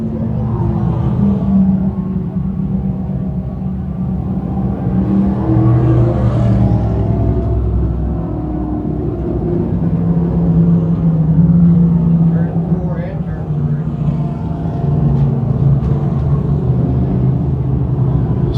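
358 modified race cars circle Can Am Speedway under yellow lights, a continuous low engine rumble running beneath steady announcer talk throughout.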